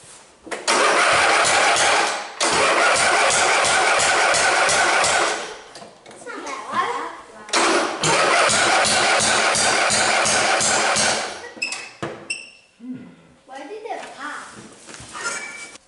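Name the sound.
lawn mower engine being started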